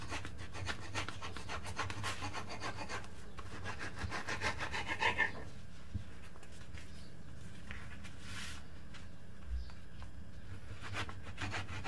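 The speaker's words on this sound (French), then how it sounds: "Ensuite, je découpe le pain" A knife saws through bread to cut it into four pieces for Lebanese stuffed arayes, giving soft rhythmic rasping strokes close by that stop partway, followed by quieter handling sounds.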